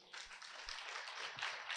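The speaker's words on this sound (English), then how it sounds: "Clap your hands if you agree with that." An audience claps hands together in a steady burst of applause, a dense patter of many hands lasting under two seconds at moderate loudness, with no speech over it.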